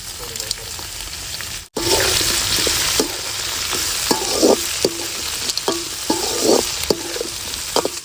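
Onions and tomatoes sauté in a pan with a loud, close, constant sizzle, punctuated by repeated scraping and clinking stirring strokes, after a brief pause near the start.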